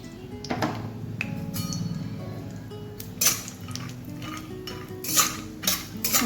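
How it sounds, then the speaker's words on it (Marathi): Almonds dry-roasting in a metal pan while being stirred for sattu ladoos, giving irregular metallic clinks and scrapes of the spoon against the pan, with sharper knocks near the end. "सगळ्यात अगोदर मी यात बदाम टाकून घेते. आता याला थोडे लालसर होऊ देऊ."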